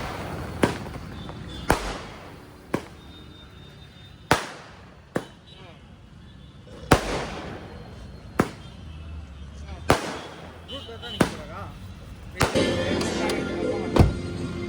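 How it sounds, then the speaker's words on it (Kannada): Firecrackers going off in Mysore: a series of sharp, loud bangs at irregular intervals, roughly a dozen across the stretch, some close and some farther off, with crackling and voices underneath. "ನಾವು ಬಂದಿದ್ದೀವಿ ಅಂತ ಪಟಾಕಿ ಹೊಡಿತಿದ್ದಾರೆ ಮೈಸೂರಲ್ಲಿ"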